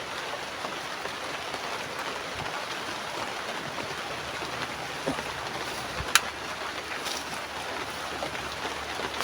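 Steady rain pattering on a surface, a constant hiss with a few sharper drips and knocks standing out.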